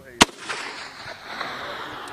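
A Marine MAAWS recoilless rifle fires downrange with one sharp, loud blast near the start, followed by a fading rumble and echo in the open air.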